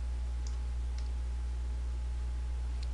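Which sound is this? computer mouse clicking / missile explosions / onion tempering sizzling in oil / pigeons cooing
computer mouse clicking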